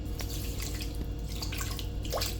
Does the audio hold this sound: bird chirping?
no